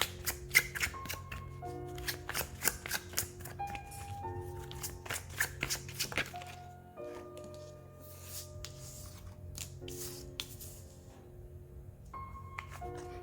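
Tarot cards being shuffled, heard as a run of quick papery riffles and flicks that come in bursts over steady background music, with no talking.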